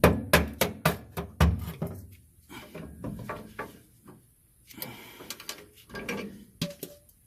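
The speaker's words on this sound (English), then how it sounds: "I usually just take a flathead screwdriver, put it against here, and just tap on it" A flathead screwdriver taps the locking ring of a rear fuel tank sending unit, giving a fast run of sharp metallic knocks that slows into scattered, softer taps and clunks.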